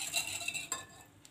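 Pizza dough ingredients, yeast, a small spoon of sugar and half a glass of milk, being stirred in a bowl, giving a close, soft scraping and swishing with light clinks of a spoon against the bowl.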